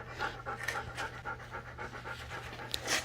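Dog panting rapidly and rhythmically at close range in a workshop with a CNC milling machine, steady quick breaths over a low machine hum.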